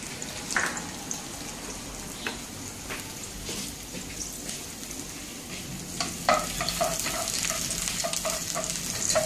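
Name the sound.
chopped garlic frying in oil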